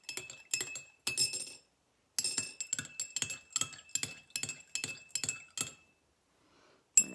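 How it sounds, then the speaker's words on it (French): A spoon clinks against the inside of a glass of water as it is stirred, a quick run of bright ringing taps in bursts, close and clear, with a brief pause partway and a final clink at the end. "Je vais mélanger."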